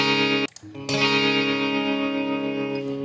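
A sustained guitar chord with a soft chorus effect rings out with a gentle shimmering widening, briefly cut off and then restruck, decaying slowly with a soft spacious sheen.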